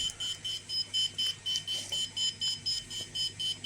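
A smoke detector alarm beeps in a quick, even rhythm, about a dozen short high electronic pulses, fairly soft and steady with no voices.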